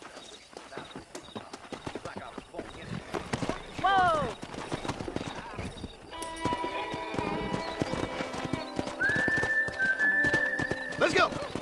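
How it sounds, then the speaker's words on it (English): Horse hooves clip-clop and a horse whinnies during a horse-wrangling ride in Red Dead Redemption, with game music, a shouted voice and dialogue over the steady galloping. "Let's see if we can't wrangle some horses."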